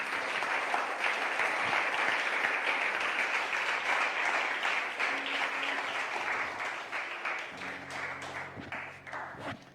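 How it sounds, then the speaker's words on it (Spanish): A church congregation applauds steadily for about ten seconds, dense sustained clapping that thins slightly near the end, with a soft sustained tone underneath. "Dale una ofrenda de palmas."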